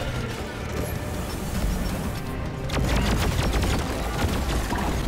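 Turret gunfire in the co-op shooter Deep Rock Galactic: dense, continuous bursts of shots and impacts that grow louder partway through, layered over a busy mix of battle noise.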